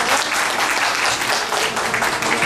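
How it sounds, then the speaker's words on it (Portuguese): An audience applauds after a talk, a dense, steady wash of clapping that holds at an even loudness for the whole stretch with no voices standing out. "Eu gostaria então de fazer uma salva de palmas"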